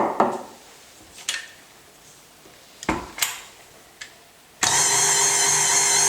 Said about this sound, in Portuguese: Ligo a batedeira.